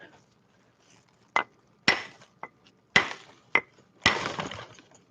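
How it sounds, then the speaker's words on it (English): A rock struck repeatedly with an anvil until it breaks in half: five or six sharp, close impacts at uneven intervals, the last a longer cracking crash. "if I hit it with that anvil, I bet you it will break in half"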